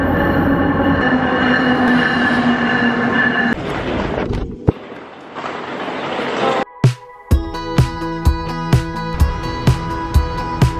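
A train runs on the railway: a steady loud rumble of wheels and carriages gives way, after a short quiet gap, to a sharp, regular clickety-clack of wheels over rail joints, close and prominent with no voices.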